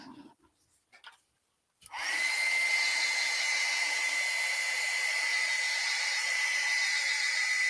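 Hair dryer drying an acrylic painting of a winter fox: after a few faint handling sounds and a brief silence, a steady, close blowing roar switches on and holds to the end.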